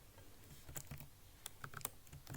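Quick typing on a computer keyboard, light crisp keystrokes in an uneven run, close and quiet with no voices.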